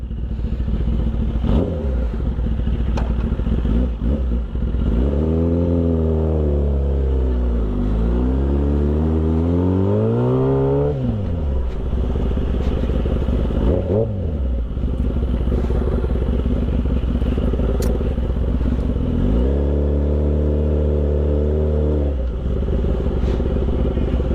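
A big bike motorcycle ridden on a road, its loud engine droning close by, repeatedly revving and rising in pitch, then dropping back, steady and continuous throughout.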